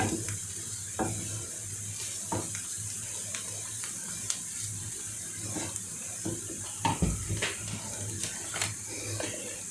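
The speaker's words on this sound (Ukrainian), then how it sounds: "Гарно-гарно перемішайте." A spoon stirs a creamy garlic sauce for chicken breast in a pan, making soft scraping and clicking strokes over a steady low sizzle and a constant background hum.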